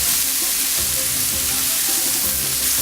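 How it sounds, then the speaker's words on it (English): Mushrooms sizzle steadily in a hot frying pan as they are stirred and shaken, a dense continuous crackle close up with no voices. "And then I'm going to give them a little stir and a shake."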